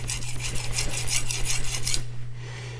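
Knife edge stroked on an Arkansas natural stone for a micro bevel, a steady run of close rhythmic rasping strokes for about two seconds, then stopping, over a constant low hum.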